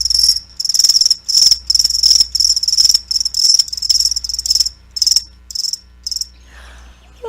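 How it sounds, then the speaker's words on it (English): Crickets chirp in rhythmic bursts of high, bright trills, about a dozen pulses spaced evenly and fairly close, over a faint low hum, with the chirping thinning out toward the end. "That's right, crickets."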